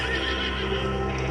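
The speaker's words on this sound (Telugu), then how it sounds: "గుర్రాలు వస్తున్నాయి." A brief burst of horses neighing loudly over the rhythmic clip-clop of approaching hooves, dense and close, with no talk.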